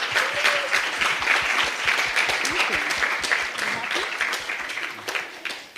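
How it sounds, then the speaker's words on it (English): An audience applauds a panel at a fellows summit and congress, a dense steady clatter of many hands kept up for several seconds, with faint voices underneath. "Round of applause for our panel."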